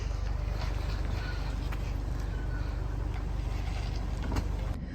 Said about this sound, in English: as you can see on this car we do get an electric tailgate